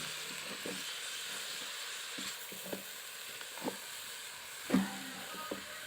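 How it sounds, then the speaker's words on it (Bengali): Pea shoot greens fry in a rice cooker under a low, steady hiss while a spatula scrapes and knocks the pot in several scattered, soft strokes. "সবগুলো শাক দুটিয়ে রাইস কুকারের ভিতরে দিয়ে নিলাম এবার একটু নেড়ে দেব"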